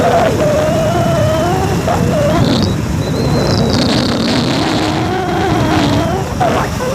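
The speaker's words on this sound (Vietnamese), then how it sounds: "Rồi giờ ngồi xe máy về thôi." A motorbike engine drones steadily while riding, mixed with loud wind and road rush that stays constant throughout, with faint talking underneath.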